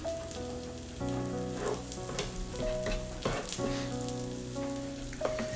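Scrambled eggs with cheese sizzle steadily in a pan and get flipped and moved around, with a constant crackle, brief scraping knocks and a spatula tap near the end.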